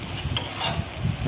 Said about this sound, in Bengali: এবার একটু এটাকে লাল লাল করে ভেজে নিলাম